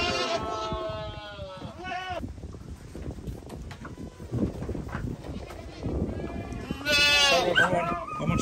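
Several goats bleat at a roadside livestock spot, loud and repeated calls near the start and again toward the end, with shuffling, hoof sounds and a voice mixed in.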